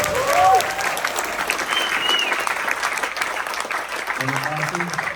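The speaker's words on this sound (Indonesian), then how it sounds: "Sekali lagi tepuk tangan buat semua yang terlibat di sini." Audience applause at an Indonesian political speech event, a dense steady clapping from a sizeable crowd that fills the whole stretch, with brief faint voices and tones rising over it.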